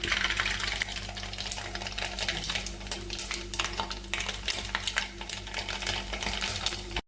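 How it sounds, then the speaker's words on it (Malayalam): Mustard seeds crackle in hot oil in a pan, a steady dense sizzle with scattered sharp pops and light clinks of utensils, close and continuous with no talking. "അപ്പം നമ്മുടെ എണ്ണയൊക്കെ നന്നായിട്ട് ചൂടായിട്ടുണ്ട് നമുക്ക് ഇച്ചിരി കടുക് കൊടുക്കാം"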